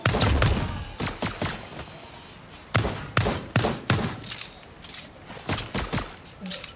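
Gunfire in the video game Lost Skies: rapid bursts of sharp shots in irregular clusters, loud and close, with short gaps between volleys.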